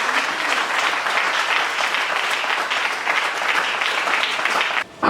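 A church congregation claps in sustained, dense applause throughout, loud and steady with a brief dip near the end, no talking over it.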